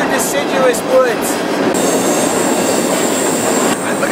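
A freight train rolls through wild, deciduous Appalachian woods, its steady broadband rumble of rail noise carrying throughout, with brief wheel squeals early on and a high metallic whine setting in partway.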